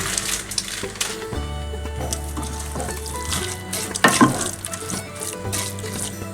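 Ground mince frying in a pan during a home test-kitchen cook, with a steady bright sizzle running throughout, low hum underneath and a few clinks and stirring scrapes midway.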